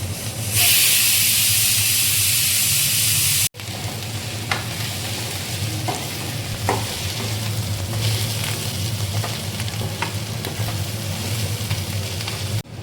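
Cumin seeds hit hot oil in a pan with a loud burst of sizzling hiss, then a steadier, softer frying sizzle continues with faint stirring taps, no talking.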